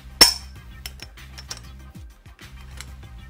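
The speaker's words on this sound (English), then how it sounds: "And torquing for our third and final time." Torque wrench tightening bolts on a Generation 4.0 axial isolator assembly, giving a sharp metallic click followed by lighter clinks and ticks of tool on metal, close and otherwise quiet.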